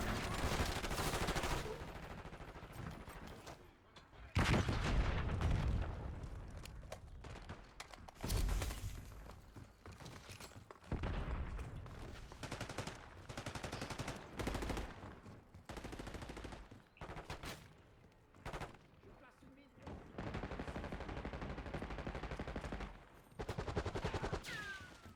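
Gunfire in Black Ops 6, dense bursts of automatic fire and single shots rattling almost continuously for the whole stretch, loud and close with brief gaps.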